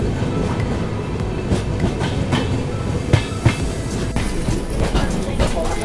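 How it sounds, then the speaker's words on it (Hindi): Mewar Express train rolling along the rails in India, heard from inside a carriage as a loud, continuous rumble with rhythmic clickety-clack wheel beats. "और हमारी ट्रेन बढ़ चली है अब मावली जंक्शन की ओर,"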